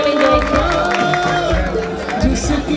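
Audience clapping and cheering at a musical tribute show, a steady wash of applause and crowd noise from a hall, with music or voices mixed in underneath.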